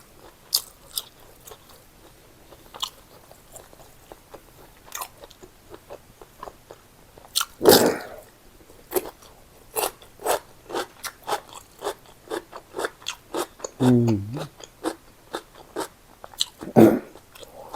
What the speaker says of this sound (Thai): บักแตงเนี่ย กรอบหวานเพื่องเด็ดมาจากต้นไม้เลย